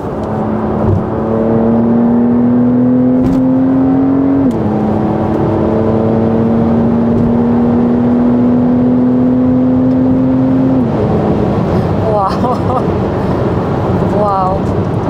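A Porsche Carrera 992.2 in Sport Plus mode accelerating hard, its engine note climbing steadily and loudly with two quick gear changes before revving freely at the end.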